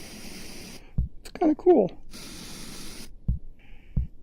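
Spray tool in Oculus Medium VR sculpting, used while shaping a green dragon's tail: repeated bursts of airy hiss separated by silence, with a person speaking briefly between them.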